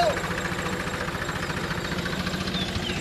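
A tractor engine runs steadily nearby in a rural farm setting during groundnut sowing, a continuous low chugging rumble with a faint rhythmic knock throughout.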